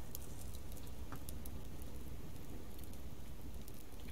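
Steady rainfall in the survival video game Subsistence, a continuous broadband patter with scattered sharper droplet ticks, moderately quiet and uniform throughout with no voices.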